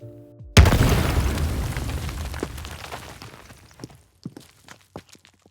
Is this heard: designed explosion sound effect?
yes